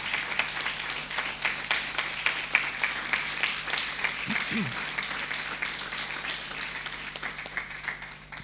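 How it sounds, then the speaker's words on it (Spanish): A church congregation claps in a fairly soft, steady patter, with a brief low murmur of a voice partway through. "Denle un fuerte aplauso al Señor."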